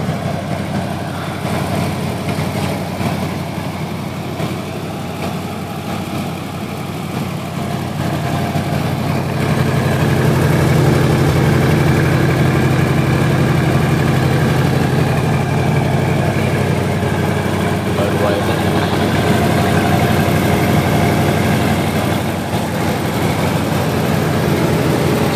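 A long-stored 1972 Ford F-250 pickup with uncleaned spark plugs idles through dual exhaust, a steady low rumble that grows louder partway through and then holds, with no voices.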